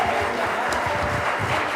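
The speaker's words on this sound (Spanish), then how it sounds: "Denle un aplauso al Señor." A church congregation claps for the Lord during a sermon, a steady, dense wash of many hands that stays fairly even and moderately loud throughout.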